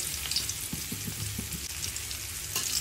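Dried red chillies fry in oil over low heat with a soft, steady crackling sizzle, and a few low knocks and scrapes come from stirring in the pan.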